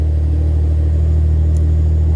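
A 2006 Jeep Wrangler engine with a 42RLE transmission fault holds a steady, loud low rumble as the accelerator is pressed and held, a continuous drone with no speech over it.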